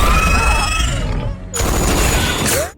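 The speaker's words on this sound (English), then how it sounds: "After a burst of rapid gunfire, someone chopped off the monster's head with a knife" Rapid gunfire rattles loudly through a monster-invasion film scene, a dense burst continuing with a brief dip before a second sharp volley, mixed with other action effects.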